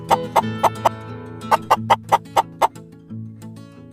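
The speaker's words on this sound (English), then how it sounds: "Cluck, cluck, cluck, cluck." A chicken on a farm gives a run of about a dozen sharp, evenly spaced clucks over a low background hum, close and clear with no voices.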